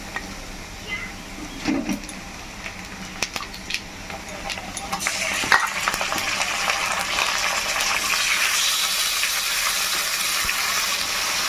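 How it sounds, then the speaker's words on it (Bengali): Marinated chicken added to onions frying in a pan for Bengali coriander chicken curry; a few clicks and clatters come first, then a louder, steady sizzle and hiss builds and keeps going. "এরপরে মাখিয়ে রাখা চিকেনটা দিয়ে দেবো এর মধ্যে"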